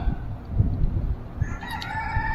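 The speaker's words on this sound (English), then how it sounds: "We got a rooster in the background." A rooster crows in the background, a faint drawn-out call rising late over low rumbling handling noise close by.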